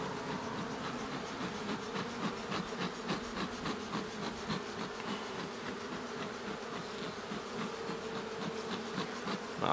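Honey bees buzz continuously at an open hive while being smoked during queen rearing, a dense steady swarm hum with close individual bees darting past, no talking.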